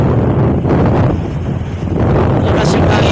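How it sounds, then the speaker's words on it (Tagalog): Strong wind on the approach to Tingloy Island buffets the microphone with a loud, roaring rumble, steady and gusty throughout, with no clear speech. "Malakas yung hangin."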